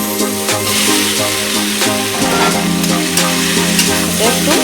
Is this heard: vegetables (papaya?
yes